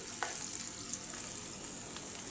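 Chopped onions, green chillies, cinnamon and cloves fry in a pan for a dhaba-style potato curry. A steady close hiss runs throughout, with a couple of faint stirring scrapes and no talking.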